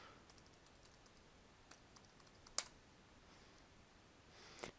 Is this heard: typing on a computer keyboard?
yes